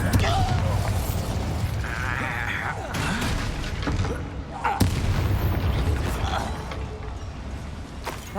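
Bombarda blast spell in Hogwarts Legacy, sharp explosive booms and creaking, grinding debris sounds amid game combat, with a brief voice heard over the action.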